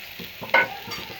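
Rice flour is stirred into colocasia greens frying in a pan, giving a soft continuous sizzle with brief scraping stirs and one sharper clink midway; close and moderately loud, no voices.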